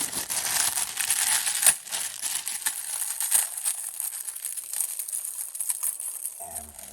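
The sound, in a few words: cutting open doll packaging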